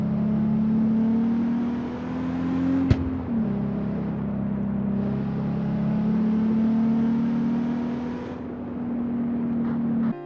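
A car engine in the CarX Street racing video game holds a steady droning hum, with slight pitch swells and a brief sharp click near the three-second mark, sounding close and loud with no speech.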